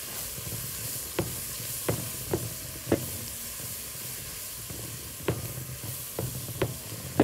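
Onions and fish in a pan, seasoned with fish spices, salt and pepper, sizzle steadily while a utensil stirs them, giving sharp scraping strokes every second or so over the continuous frying hiss.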